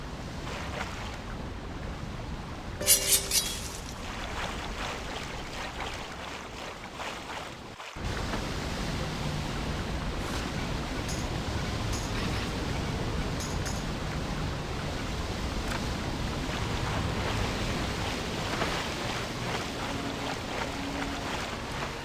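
In the Pirate101 video game, a waterfall rushes with a steady, even roar that swells louder after a brief clatter and holds unbroken, with no voices.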